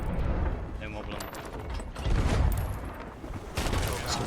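Ship cannons boom in a rolling broadside during a competitive naval video game match, a dense series of heavy low blasts layered over continuous chatter from players or commentators.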